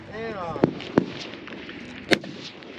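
Three sharp reports at a 1000-yard F Class long range rifle match: one near 0.6 s, one near 1.0 s and one near 2.1 s, each brief and punchy. The shots sound over open-air ambience, and a voice is heard faintly at the start.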